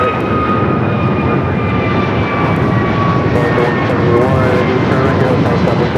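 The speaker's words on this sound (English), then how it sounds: "Korean Air Cargo Flight 9210 heading to Seattle. A 777 freighter. Both will be taken off here on the south side." A Korean Air Cargo Boeing 777 freighter takes off from the south side at Los Angeles International Airport, producing a loud, continuous jet roar with whining engine tones that stays strong for the whole stretch.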